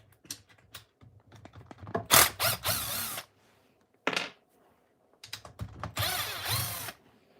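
Impact driver fitted with a 4mm bit removing a plate from a Traxxas Hoss RC truck, heard as several close, loud bursts of rapid hammering whirs broken by short pauses and small clicks.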